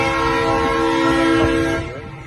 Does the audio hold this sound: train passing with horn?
yes